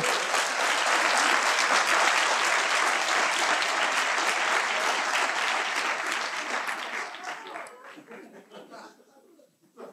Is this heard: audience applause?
yes